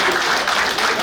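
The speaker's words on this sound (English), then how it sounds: "Please, let's give him a round of applause." Audience applause at a naval war college graduation ceremony, a brief, loud, dense burst of clapping throughout.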